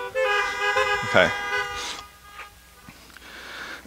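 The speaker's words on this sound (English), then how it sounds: "if you can hear me, give a friendly tap on the horn." Car horns honk from vehicles parked at an outdoor church drive-in service, several tones overlapping in a loud burst near the start and fading into scattered toots, with a brief spoken word.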